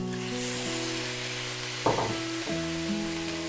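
Pork dropped into a hot pan with garlic and onion for Filipino pork mechado, bursting into loud sizzling frying that flares sharply twice and keeps crackling steadily.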